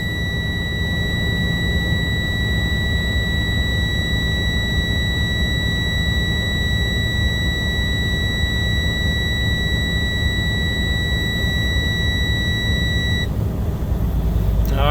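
A truck's idling engine is raised to about 1,000 RPM while the low air pressure warning buzzer sounds, a steady high electronic tone over a constant low rumble, stopping shortly before the end.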